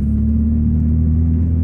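Engine of a Volkswagen MK2 GTI with a four-cylinder turbo setup making about 170 at the flywheel, heard as a loud, steady low drone with a strong rumbling hum, close and sustained without talk.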